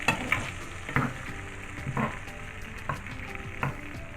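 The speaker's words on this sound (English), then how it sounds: "I'm going to keep stirring it around for a second" Lentils and diced tomato stirred in a pot, a spoon scraping through the mixture in regular strokes about once a second over a low sizzle, close up with no talking.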